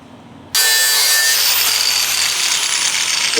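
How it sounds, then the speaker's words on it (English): A power tool abruptly starts cutting into a metal Summit Racing frame brace for a classic car chassis to trim its corner, giving a loud, steady, high-pitched grinding whine that continues to the end. "I need to trim that corner."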